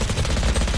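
Rapid gunfire in a competitive video game match on the map Pearl, a dense burst of shots filling the whole short moment at steady loudness, with no voices over it.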